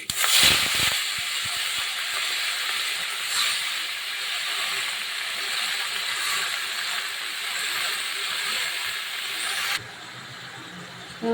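Spinach with nigella seeds and chilli sizzles loudly in hot oil, a strong steady hiss that begins with a clatter as the leaves go in and drops off abruptly near the end.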